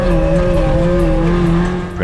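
A rally car fitted with a roll cage pulls away into the Rajasthan desert, its engine droning loud and close with a steady pitch that climbs slightly before easing off.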